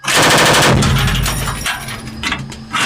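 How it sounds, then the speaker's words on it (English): The coaxial machine gun of a Leopard 1 tank fires a ranging burst, a loud rapid string of close shots rattling out and trailing off into echo. "10-round ranging burst! Fire!"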